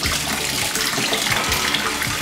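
Water pours steadily from the waterfall outlet of a black SUS304 stainless steel shower panel, a loud, continuous broadband splashing rush that stays even throughout.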